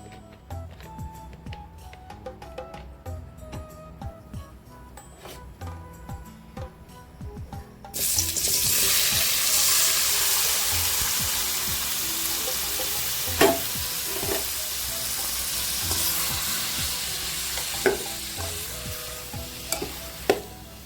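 Tomatoes sautéing in sesame oil for spicy tomato thokku: a loud, steady sizzle starts abruptly partway through after a quieter stretch of kitchen clatter, with occasional stirring knocks and no talk.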